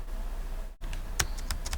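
Keys clatter on a computer keyboard as numbers are entered into a program, a short burst of several sharp clicks following a brief pause, close and moderately loud over faint room hiss.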